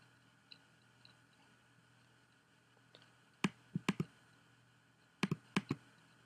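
Sharp, dry computer mouse clicks in a quiet room, a few scattered then two tight clusters of quick double clicks, close and crisp over faint background hum.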